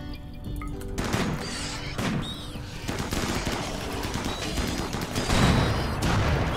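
Colonists fire on raiders in the game Rimworld, a dense continuous barrage of rapid gunshots and bursts with occasional heavier booms, loud and sustained throughout.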